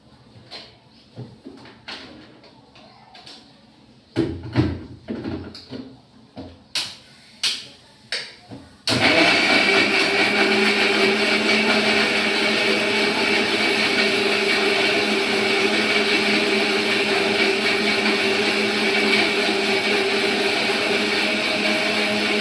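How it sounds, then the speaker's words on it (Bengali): An electric mixer grinder blends a milkshake in a home kitchen. A few sharp knocks and clicks come first, then the motor kicks in with a loud, steady whirring roar that runs without a break to the end. "আমি এবার একটু মিক্সিতে এটা পেস্ট করে নেব।"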